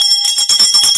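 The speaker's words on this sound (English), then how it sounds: "We ring the bell for victorious test takers" A bright metal bell rings out for a test taker who passed, with clear sustained tones and a few quick repeated strikes over about a second, loud and close, with no talking.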